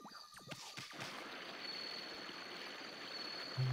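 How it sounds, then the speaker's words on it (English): In the video game Okami HD, spring water pours steadily into a barrel, a continuous rushing, gurgling wash that holds at an even level for several seconds. "Get the spring water into the barrel."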